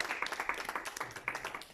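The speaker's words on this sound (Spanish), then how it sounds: "Aplaudimos." A small audience claps after a talk on urology in multiple sclerosis. The claps are sparse and individually distinct, fairly quiet and close, and continue unevenly for a couple of seconds.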